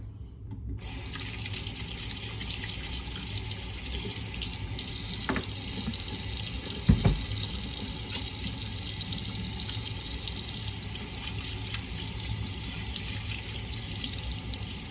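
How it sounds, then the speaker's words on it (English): Hands washed under a running kitchen tap, a steady close hiss and splash of water that rushes on for the whole stretch, with a couple of brief knocks and splashes partway through and no talking. "now let me wash my hands real quick"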